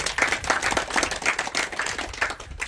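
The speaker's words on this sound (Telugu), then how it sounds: "గట్టిగా చప్పట్లు కొట్టాలి" Devotees listening to a swami clap hard in a dense, rhythmic burst, many hands striking in a quick pulsing pattern that stays loud and close throughout.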